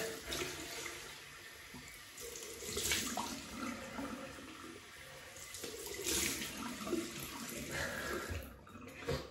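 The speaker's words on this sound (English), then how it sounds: "Let's rinse off. Cold water." Cold tap water gushes and splashes steadily, loud and close, with shifting surges as a freshly shaved face is rinsed under the stream.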